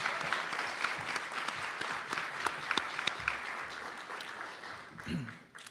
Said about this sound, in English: So please, a round of applause for the food tonight.